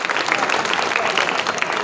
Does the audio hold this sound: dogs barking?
no